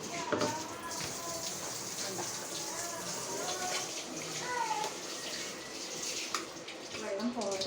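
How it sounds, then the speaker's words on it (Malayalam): Water is poured into a cooking pot of masala, a soft, continuous splashing trickle close by, with a voice talking quietly over it. "ഇനി കുറച്ച് വെള്ളം ഒഴിക്കാം."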